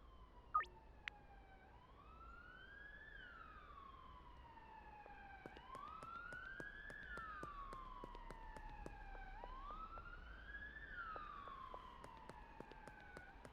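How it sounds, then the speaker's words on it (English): A wailing video game siren in Satisfactory rises and falls in long repeated sweeps, faint and distant, with occasional sharp clicks over a low background hum. "I don't like the sound of sirens."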